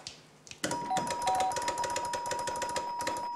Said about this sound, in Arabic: هو الجرس ده بتاعكم